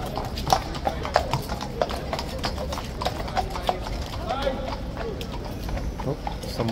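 Police horse hooves clip-clop on pavement near a ceremonial guard post, a steady walking rhythm of crisp close strikes under a murmuring crowd, with people talking nearby.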